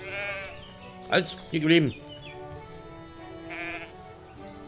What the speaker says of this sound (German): jetzt müssen wir noch Schafe in die Behausung führen